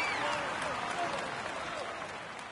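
A large crowd at the Tour de France podium applauds a cyclist, with dense, steady clapping and cheering that fills the scene and slowly eases off, while an announcer's voice runs underneath.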